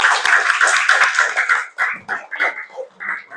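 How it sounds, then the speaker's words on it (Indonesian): Schoolchildren in a classroom clap together in a short burst of dense applause that breaks into scattered, uneven claps and fades within a few seconds. "Beri tepuk tangan untuk kita semua."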